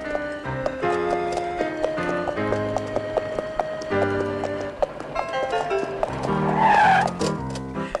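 A horse in an animated children's cartoon clip-clops along beneath a busy musical score, its hoofbeats mixed in with the tune rather than standing alone.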